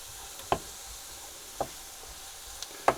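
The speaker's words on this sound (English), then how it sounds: "Keep stirring around. Make sure everything gets sautéed, not fried" Sausage casserole ingredients sautéing in a pan give a soft, low sizzle, with three sharp spoon clicks against the pan spaced about a second apart.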